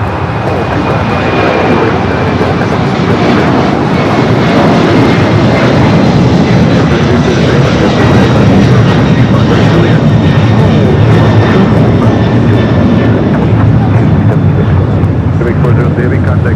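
A jet airliner, American flight 1313, takes off from runway 25 right at LAX, a loud continuous engine roar with a faint whine, close and steady throughout, with radio talk over it.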